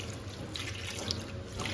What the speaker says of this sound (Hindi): अब इसमें जो है मैं 1 गिलास पानी डाल के इसको चिकन को पकने के लिए रख दूँगी